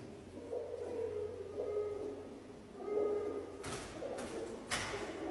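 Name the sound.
pigeons cooing in abandoned church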